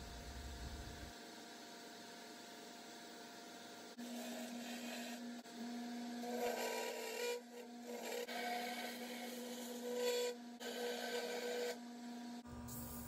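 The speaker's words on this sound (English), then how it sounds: "Next, I turn the legs on the lathe." Steady mechanical whir of a wood lathe running, with rougher scraping and rasping bursts as a tool cuts into spinning wood while turning chair legs.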